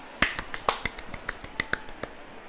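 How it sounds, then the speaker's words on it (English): A sparse golf clap during an MLB The Show 20 Padres game, a handful of light, separate claps spaced unevenly, close and dry, with no talk over them. "Golf clap"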